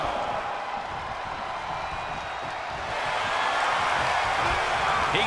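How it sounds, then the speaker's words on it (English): A wrestling arena crowd in the WWE 2K22 video game keeps up a broad, dense roar of cheering that swells louder partway through, with no speech over it. "The sound of this crowd is deafening, and he's asking for more."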